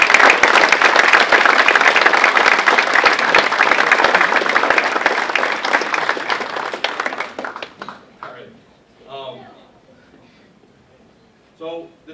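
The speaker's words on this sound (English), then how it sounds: "So everyone, give Jason a round of applause" A banquet crowd at a baseball team's first-pitch dinner gives dense, loud applause for about eight seconds before it thins out and fades, and a few voices are heard afterward.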